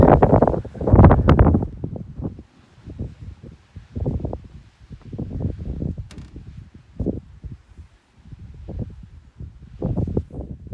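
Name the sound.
wind blowing on Guadalupe Peak summit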